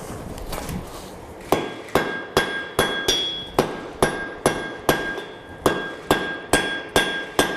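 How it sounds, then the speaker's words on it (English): Hammer blows ring out on hot steel over an anvil during forge welding, about a dozen sharp metallic strikes in a steady, even rhythm after a few lighter taps, loud and close with no talk. "I think I'm over swinging with my hammer a little bit"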